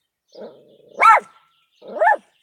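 A dog gives a low growl, then two sharp, loud barks spaced about a second apart, close by and with no talk over them, aimed at neighbourhood dogs.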